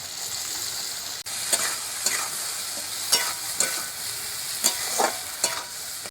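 A ground paste of turmeric, chili, mustard and poppy seed with salt fries in a pan for a fish curry, a steady close sizzle with regular soft scraping strokes of a spatula stirring every half second or so.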